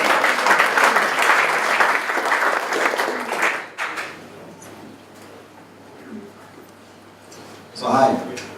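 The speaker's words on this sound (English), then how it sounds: "a big round of applause for Anna from Swiss Realty" A large audience at a startup funding event in Amsterdam gives a loud, dense round of applause for the next presenter, steady for several seconds before fading into scattered claps and a brief final burst.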